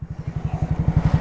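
A Helmet Head monkey bike's small engine revs in rapid, even pulses, climbing steadily in loudness as it accelerates up through the gears, with no voices over it.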